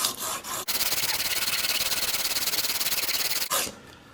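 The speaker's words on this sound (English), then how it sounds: "So I will keep sharpening." A Swacker 252 broadhead being sharpened, one long steady rasping stroke of the blade across an abrasive surface, close and loud, with shorter scrapes before and after.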